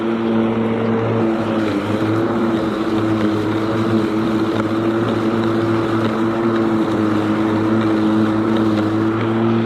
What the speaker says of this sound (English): How can you not like a battery powered piece of lawn equipment?